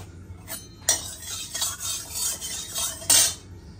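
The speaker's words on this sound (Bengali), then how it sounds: "এক হাতে করছি বলে এইভাবে কড়াইতে চারদিকে তেলটা ছড়িয়ে দিচ্ছি" Oil is swirled and spread around a wok with a metal utensil before mutton cooking, several scraping strokes and clinks with light sizzling, close and irregular, with two louder scrapes standing out and no talking.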